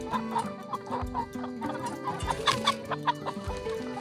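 Rhode Island Red chickens cluck continuously on a farm, several birds overlapping in a busy, close chorus of short clucks and longer drawn-out calls.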